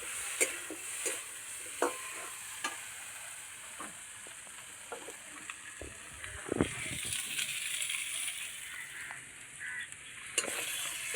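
Spices sautéing in a pan while being stirred, a soft sizzle under repeated scraping and clinking strokes of a spoon, close and fairly quiet, with no voices.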